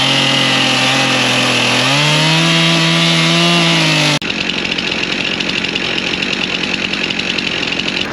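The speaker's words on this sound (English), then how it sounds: "I can't say as I've ever had to modify a boat with a chainsaw to make a boat motor fit" A chainsaw roars loudly, its pitch shifting as it bites into the wood of a dugout canoe, then abruptly drops to a rough, steady grinding rasp for the rest of the cut.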